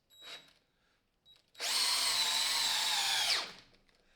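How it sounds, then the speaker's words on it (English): A cordless drill driver, held one-handed, drives a screw in one steady whine of about two seconds that ends abruptly. A brief tap and a short trigger blip come before it, and no one speaks. "here we are, one-handed with the drill driver. We'll just start this off."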